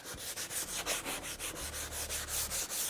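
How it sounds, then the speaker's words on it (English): Steady, rhythmic scratchy rubbing of sandpaper on wood during finish sanding, the paper held on a gloved fingertip, back-and-forth strokes repeating evenly and close up, with no voices. "when you're doing your finish sanding"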